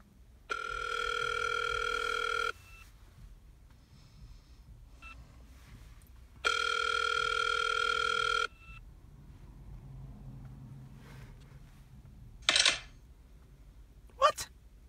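Telephone ringback tones during a prank call, two long steady ring buzzes separated by quiet line noise, then a couple of short beeps toward the end, heard close through the phone speaker.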